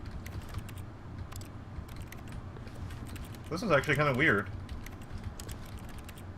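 Soft in-game keyboard clatter from pressing the use key in The Stanley Parable keeps ticking in the background while someone talks briefly over it.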